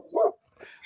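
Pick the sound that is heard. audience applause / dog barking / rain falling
dog barking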